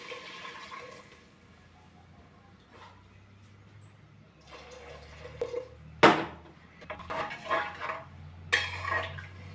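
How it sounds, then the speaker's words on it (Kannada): Water poured into washed rice in a cooking pot for masala pulao, heard as quiet handling and then splashy, gurgling pours in several bursts, with a sharp clink midway and louder sloshing toward the end. "ಇದ್ರೊಳಗೆ ಒಂದು ಸ್ವಲ್ಪ ನೀರು ಹಾಕೊಂಡ್ರಿ"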